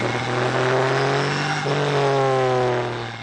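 Lola T140 Formula 5000 race car engine heard onboard during the Lady Wigram Trophy race, a loud continuous howl with harmonic tones shifting through gear changes, close and dominant, no talk.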